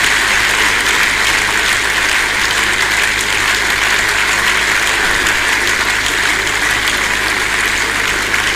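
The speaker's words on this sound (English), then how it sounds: "this is how much we can clap with him for him" Audience applause fills a hall at an annual general meeting in Edo, a steady unbroken wash of clapping that stays loud and even from start to finish with no voices over it.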